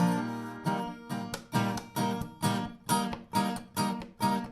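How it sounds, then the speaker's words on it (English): Palm-muted guitar strings are struck in a steady rhythm, each chunky chord cut short and dampened, about eight or nine hits in a row. "I'm muting the strings on my guitar with this part of my hand right here"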